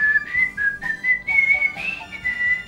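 A clear, melodic whistled tune, a film theme, carried in short bright phrases with brief gaps, loud and close, with no voices over it.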